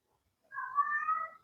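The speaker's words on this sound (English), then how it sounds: "He's such a chatty cat." A single drawn-out meow from a chatty house cat, fairly clear and close, rising and wavering for about a second in an otherwise quiet room.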